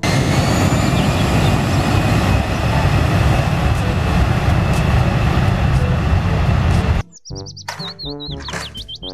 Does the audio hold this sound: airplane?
yes